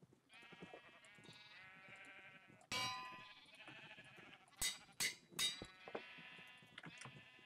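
Sheep bleat several times inside a Minecraft redstone contraption, the calls loud and close, with a sharp clang near the start and clicking block or mechanism sounds in between.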